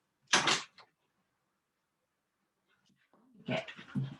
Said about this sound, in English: The puppy's at the door.